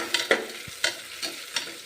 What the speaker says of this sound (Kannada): ಒಂದೊಂದಾಗಿ ಫ್ರೈ ಮಾಡ್ಕೋಣ.